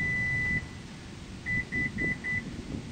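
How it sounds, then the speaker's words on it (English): A Toyota RAV power back door beeps once long, then four short, evenly spaced beeps follow as it stores its open position, clear over low background hum. "You will hear 4 beeps."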